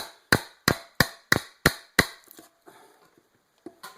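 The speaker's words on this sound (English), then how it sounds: "all I'm doing is just hacking with a chisel and a hammer, just banging away on it" Six sharp, evenly spaced hammer blows drive a chisel into a 2x4, each a crisp woody crack at close range, followed by a few fainter taps and scraping pauses.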